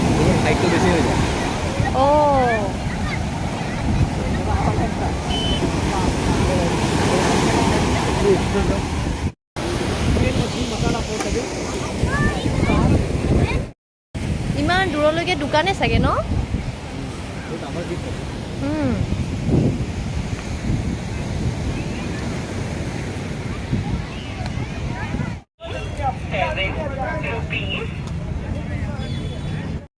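Steady roar of seashore waves and gusting wind on a beach near Chennai, loud and continuous with brief dropouts, while people talk over it.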